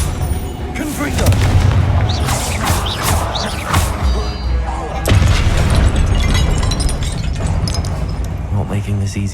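Spell blasts and booming explosions crash repeatedly during a Hogwarts Legacy combat sequence, loud and dense with heavy low impacts and rumbling bursts throughout, while a voice calls out spells over the action.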